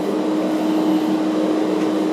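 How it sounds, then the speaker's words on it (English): A portable spray booth's extraction fan runs after being switched on, giving a steady, even whooshing hum much like an air conditioner, close and continuous with no speech. "It sounds a little bit like a air conditioner."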